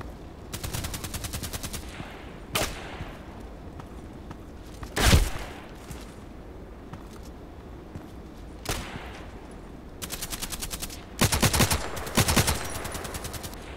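Gunfire in the Contract Wars shooter game, heard as several separate bursts of sharp automatic shots and single cracks spread across a quiet background, some loud and near, others softer.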